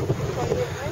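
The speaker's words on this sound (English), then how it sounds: "A little bit windy up here on the top." Wind buffets the microphone on a mountaintop in Gros Morne, a loud, gusty rumble that roars steadily throughout the brief moment.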